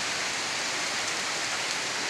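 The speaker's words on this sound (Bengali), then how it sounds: "ঠিক 6টার দিকে বৃষ্টি শুরু হয়।" Heavy rain pours down in a dense, even hiss, unbroken and close, with no voices.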